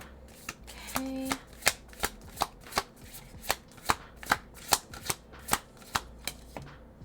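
Playing cards riffled and snapped off a deck in a steady run of about sixteen sharp, crisp slaps, evenly spaced and close, with no talking.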